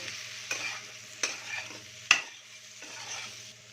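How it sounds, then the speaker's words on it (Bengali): Spices and chili powder are stirred together in a frying pan for a Kolkata street-food dish, with a steady low sizzle under three or four sharp scraping strokes of the spoon. "দিয়ে এগুলোকে সব একসাথে মিক্স করে নেব।"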